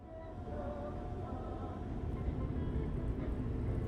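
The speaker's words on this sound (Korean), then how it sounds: "그리고 바다를 지날 때 기차 속도를 줄입니다." Steady rumble and rattle of the Donghae sea train running along the coast while slowing near the water, a continuous close interior drone with rolling wheel noise that grows slightly louder toward the end.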